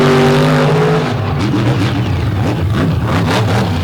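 Monster Mashers racing machines in an all-star championship final power out of a corner, engines roaring loud and close with rising, wavering revs and faint tire noise, and no other sound over them.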